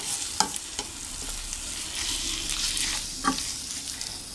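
Korean tteokbokki rice cakes stir-fried in a generous amount of sauce, giving a steady close sizzle with scattered soft scraping and clinking of a utensil against the pan, and no talk.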